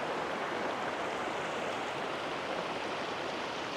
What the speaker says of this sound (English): Got a nice little stream here.